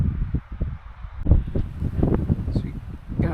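Gusty wind buffeting the microphone with low rumbling bursts, over faint background ambience.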